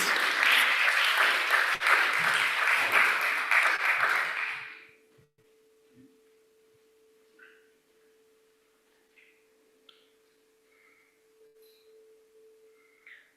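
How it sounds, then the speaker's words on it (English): Audience applause at a research week conference welcoming a speaker, a loud, dense burst of clapping that fades out after about four seconds, leaving a quiet room with faint scattered sounds. "Applause."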